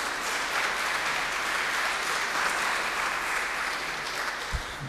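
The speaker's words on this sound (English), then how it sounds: "I expect a big round of applause from everybody" An audience at a University of Latvia event applauds the rector with steady, dense clapping that continues evenly throughout, fading slightly at the very end.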